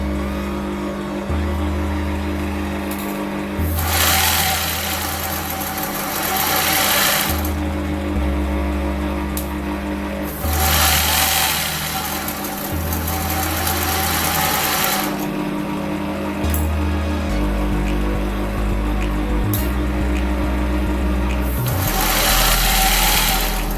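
A sewing machine stitches the top of a garment collar in several loud bursts of rapid needle clatter, separated by short pauses, with a hum running between runs.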